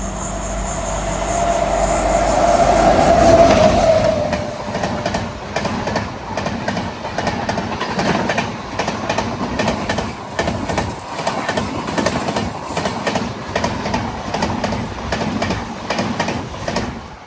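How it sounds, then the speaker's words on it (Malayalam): An express train on the Konkan route rolls past up close. A loud rumble and a brief squeal of wheels give way to a long run of rhythmic clacks as the wheels cross the rail joints. "ഈ ജോയിൻറ്റിൻ്റെ മണ്ടയ്ക്കൂടെ ഈ വീല് പോകുമ്പോഴാണ് ഈ കടക്കുന്ന ശബ്ദം കേൾക്കണേ."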